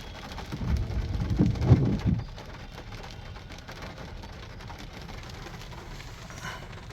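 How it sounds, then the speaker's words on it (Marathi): Rain falls lightly over a town street during a passing downpour, a soft, even patter beneath a brief low rumble near the start, faint and steady afterward. "पाऊस थोडा कमी झालेला आहे"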